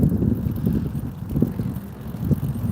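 Strong wind blowing dust and debris around near a bus stop, heard as heavy low buffeting rumble against the microphone with gusty surges throughout.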